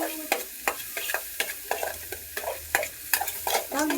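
Onions frying in a pan are stirred with repeated scraping strokes over a soft sizzle, close and irregular, with no talking.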